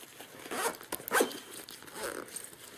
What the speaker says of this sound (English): And you just zip it up.